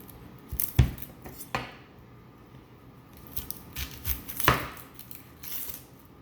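A knife cuts off both ends of an onion on a cutting board. A few sharp, quiet chops and taps come at the start and later, with a soft handling sound in between and no talk.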